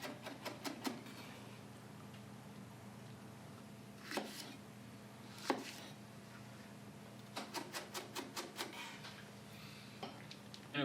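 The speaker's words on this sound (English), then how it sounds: "Next, cilantro, stems in the salsa." A knife chops garlic and cilantro on a board in bursts of quick, sharp taps between pauses, close and fairly faint over a low background hum.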